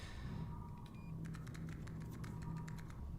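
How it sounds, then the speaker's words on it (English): Keyboard typing in the space strategy game Battlestar Galactica Deadlock, a run of quick, crisp key clicks over a steady low engine hum and ambient drone. "bit of that ASMR keyboard typing there"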